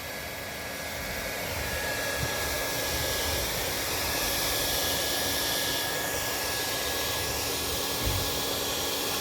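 Hot air welder heating TPO roofing membrane during a roof repair, a steady airy blower roar with a faint high whine, constant and close.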